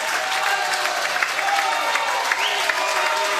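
Spectators at a high school boys' swim meet clap and cheer in a continuous, even roar, with a few sharper whoops rising briefly above the steady applause.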